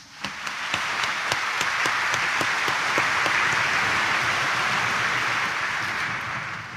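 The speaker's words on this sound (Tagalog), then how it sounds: "Ang mga nagsasabing, mahal na mahal namin si Jesus Nazareno, pumalakpak nga ng mas malakas." A church congregation applauds loudly and steadily at a homily about Jesus Nazareno, with a few sharp individual claps standing out early before the clapping settles into a dense, sustained roar.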